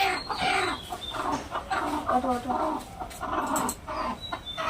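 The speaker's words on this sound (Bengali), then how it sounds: "এখানে একটা মুরগি বসে আছে" A chicken clucks repeatedly nearby in short, busy bursts, with other bird and farmyard sounds mixed in.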